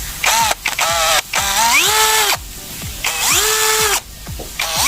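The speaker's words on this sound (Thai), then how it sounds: "ผมจะเจาะอันนี้ให้ทะลุเลยนะครับ" A cordless drill bores into thick steel, its motor whining up and down in repeated bursts with short pauses between them, loud and close, with no talk.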